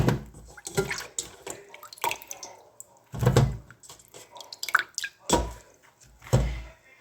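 Water drips and splashes as strawberries are lifted out of a soda and salt-water soak in a bowl, giving several separate wet bursts spread over the stretch, close and moderately loud.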